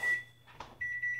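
A toaster timer gives short electronic beeps in a quiet kitchen: a steady tone, a pause with a faint rustle, then the tone sounds again, close and moderately loud.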